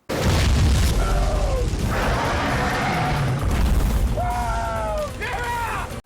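A missile explosion in a monster film scene, a loud booming blast with rolling rumble and debris crashes, layered with shouting voices and dramatic music.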